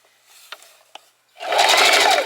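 A Singer Heavy Duty sewing machine starts stitching slowly over a pin after a few faint clicks, then runs as a loud, steady mechanical whir for the final second.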